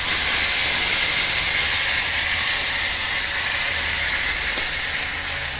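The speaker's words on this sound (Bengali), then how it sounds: "তারপরে এই মশলাটাকে ঢেলে দিলাম, এটাকে একটু কষিয়ে দিই।" Spice masala with cinnamon and bay leaf frying in hot oil, a steady loud hiss and sizzle running unbroken throughout, close and alone with no talk.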